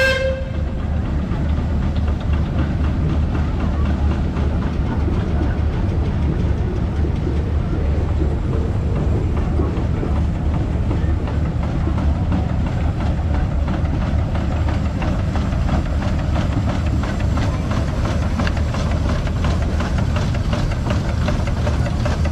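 Steam traction engine with a large-diameter boiler rolling past in an outdoor engine show parade in Pawnee, Oklahoma, giving a continuous low rumble and chuffing at steady loudness, with faint crowd noise and voices beneath.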